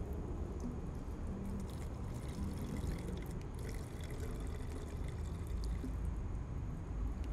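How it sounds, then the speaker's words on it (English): Bug and tar remover is poured from a bottle into another bottle, a faint, steady liquid trickle that runs unbroken for several seconds with no talking. "I'm gonna open it up and make sure to take off your seal, that way you can pour it out."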